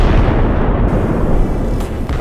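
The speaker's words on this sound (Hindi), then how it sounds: "धमाके होते हैं।" Heavy explosions in Doha, Qatar, a dense continuous roar of blasts and rumble that stays loud and close throughout, with no voices.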